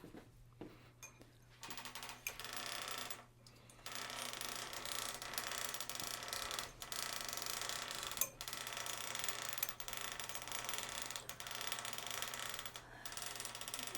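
A Gammill long-arm quilting frame rolls up a quilt with soft ratcheting clicks and mechanical gear ticks over a low steady hum, with brief quiet gaps, fairly faint and close.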